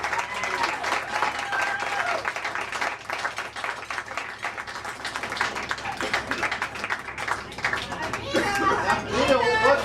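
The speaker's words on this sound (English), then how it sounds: "I'd like everybody to give her a big round of applause" Audience applause at a 50th wedding anniversary celebration, a sustained wash of clapping from a room of guests with voices and cheers mixed in, swelling louder near the end.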